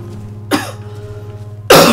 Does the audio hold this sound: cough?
yes